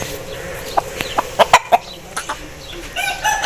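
An Aseel rooster gives a short run of sharp, close clucks in quick irregular bursts, ending with a slightly longer vocal note, loud against a quiet background.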